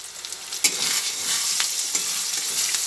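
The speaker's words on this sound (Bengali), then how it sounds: "ডিম, পেঁয়াজ আর রসুন একসঙ্গে ভেজে নিচ্ছি।" Beaten eggs, onion and garlic frying together in a pan, a loud, bright, continuous sizzle with an initial clack of the spoon and occasional stirring scrapes.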